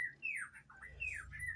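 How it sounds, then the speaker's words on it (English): Tropical birds in Costa Rica give loud squawking, chirping calls, several sweeping cries in quick succession, fairly close, over a low background rumble with no talking. "You have to excuse the birds. We are in Costa Rica."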